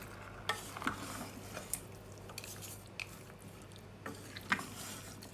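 Mutton is stirred with salt inside a rice cooker, making soft, irregular squelches and light scrapes. The sound is quiet and close, with no voices.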